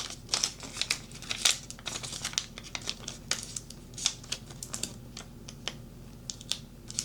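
Vinyl decal being peeled off Cricut transfer tape makes soft crinkling, sticky crackles and small tearing ticks in an irregular, close, quiet stream.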